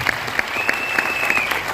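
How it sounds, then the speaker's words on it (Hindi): Loud audience applause at a large Vestige leadership event, a dense, continuous wash of clapping with a brief high whistle-like tone riding over it. "कोई जोरदार तालियां बजा लीजिए।"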